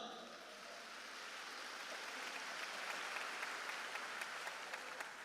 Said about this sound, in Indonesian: Beri tepuk tangan yang meriah untuk beliau.